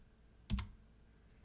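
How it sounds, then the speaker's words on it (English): A couple of quick keystrokes on a computer keyboard while typing into a search field on a Linux Solus 4.7 GNOME desktop, a brief close clatter in a quiet room. "I didn't even finish typing the word text"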